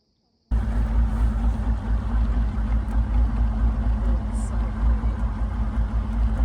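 A boat engine drones loudly and steadily while crossing the water to a private island in Canada, cutting in abruptly after a moment of silence and holding a low, even rumble with faint wind.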